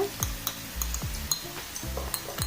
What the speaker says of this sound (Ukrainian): Ось так все шкварчить на сковорідці